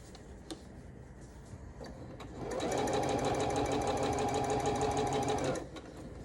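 A sewing machine stitches quilt binding for a table runner in one continuous loud, close burst of rapid, even whirring and ticking lasting about three seconds, preceded and followed by quiet room tone with faint clicks.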